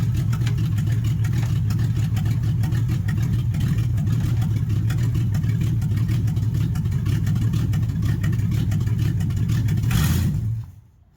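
A 1969 Chrysler 300 street machine, a big neglected sedan, holds a steady, loud, deep engine drone for about ten seconds of driving before the sound suddenly cuts off as the engine dies.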